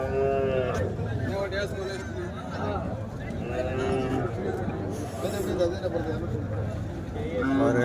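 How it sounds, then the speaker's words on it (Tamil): Cattle at a country cattle market: several cows moo in long, drawn-out calls, some near and loud, with crowd chatter and talking going on underneath throughout. "நிறைய பசு மாடுங்க கிடாரிங்கெலாம் நிறைய வருங்க"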